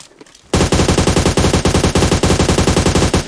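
Rapid automatic gunfire in the PUBG Mobile video game bursts in suddenly after a quiet moment, a loud, fast, evenly spaced string of shots that runs continuously to the end.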